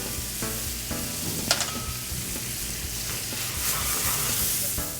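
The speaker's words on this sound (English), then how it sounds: "deglaze the pan with some white wine, add your capers, a little bit of fresh lemon juice" Veal piccata pan sauce of white wine, capers, lemon juice and butter sizzling steadily and loudly in the pan, a dense continuous hiss with occasional light clicks of the utensil.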